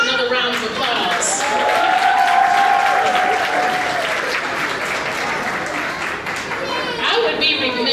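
Sustained applause from a crowd at a kindergarten graduation ceremony at Adlai E. Stevenson Elementary School, steady and loud for the whole stretch, with voices mixed in underneath.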